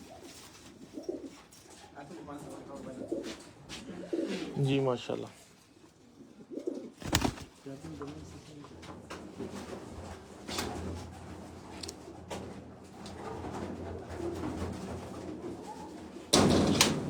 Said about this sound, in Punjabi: ਬੜੇ ਅੱਛੇ ਕਬੂਤਰ ਨੇ ਉਹਨਾਂ ਦੇ ਕੋਲ